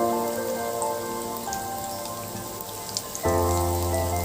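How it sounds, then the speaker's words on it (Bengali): Telakuchi and thankuni leaf pakoras fry in oil over medium heat, giving a steady, dense crackling sizzle with a low hum underneath and a brief clunk partway through. "এভাবে আমি বড়াগুলো ভেজে নিব।"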